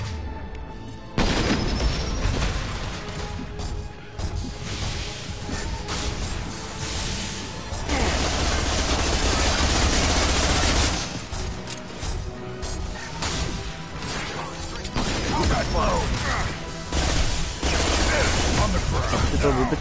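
Heavy gunfire and crashing impacts in the video game Mass Effect 2: Legendary Edition on PS4, loud dense bursts that start abruptly and continue in waves.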